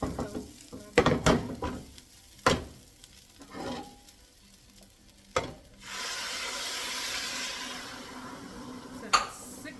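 Hot water is poured into a hot pot for arroz con pollo with chicken and rice, giving a loud hissing sizzle that sustains for several seconds after a few clattery kitchen knocks and brief talk.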